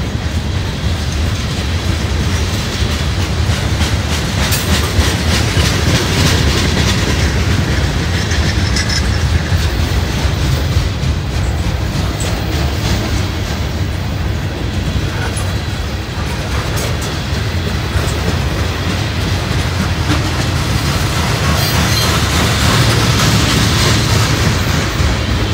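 A freight train, the Lima turn, rolls past steadily on a cold day, loud and continuous with rumbling wheels and rhythmic clicking over rail joints for the whole stretch, no talk heard.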